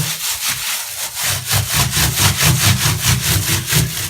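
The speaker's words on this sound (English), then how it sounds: "I'm just going to rub it in with my hand all over." Hand rubbing vinegar into clothing fabric, a rhythmic brisk scrubbing of cloth repeated steadily and close for several seconds, with no talking.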